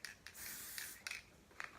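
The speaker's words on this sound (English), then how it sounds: "All right, so I'm spraying." A spray bottle squirts a few short, soft hissing bursts, with one longer spray early on, faint and close in a quiet room.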